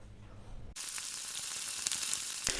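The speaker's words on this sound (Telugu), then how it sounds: "ఆయిల్ బాగా మరిగిన తర్వాత పచ్చిమిర్చి అండ్ కరివేపాకు అయితే వేసుకోండి" Green chillies and curry leaves hit hot oil for a tomato egg fry, setting off an abrupt loud sizzle that continues as a steady crackling hiss with small pops.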